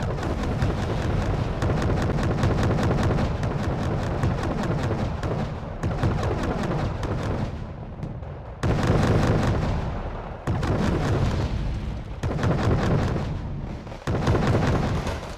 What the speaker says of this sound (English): I forgot I bought this 203 artillery. Slow firing, but packs a huge punch.